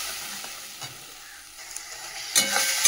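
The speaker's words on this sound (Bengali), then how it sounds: "মশলাটাও দিয়ে দিলাম, দিয়ে ভালো করে কষাবে" Spice masala of ground tomato, green chili and ginger paste sautéing in a pan with oil, a soft steady sizzle broken by occasional stirring scrapes, louder and brighter near the end.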